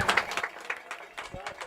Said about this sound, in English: Ladies and gentlemen, give them a big round of applause.